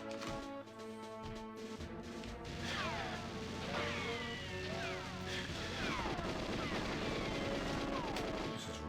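Gunfire from the GoldenEye 007 video game in the Depot level comes through as a sustained barrage of cracks and crashes. It runs steadily loud under looping game music with rising electronic tones.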